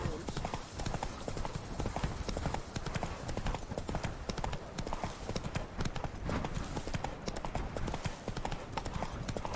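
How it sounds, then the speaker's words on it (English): A horse's hooves clip-clop steadily in The Witcher 3: Wild Hunt, a continuous, fairly loud rhythmic trot with scattered voices and game ambience mixed in. "Whoa there, Roach."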